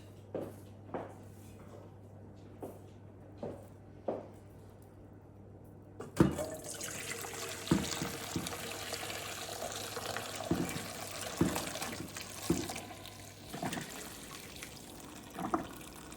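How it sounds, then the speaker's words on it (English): Broth being poured through a strainer into a kitchen sink, a steady rush of liquid splashing and running with a few louder spatters, preceded by some quieter drips and clinks. "Okay, we're going to strain this broth."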